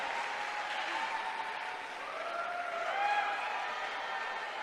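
Students and teachers of a college applaud and cheer together, a steady wash of clapping heard at a moderate distance, with faint voices and a little swelling near the end.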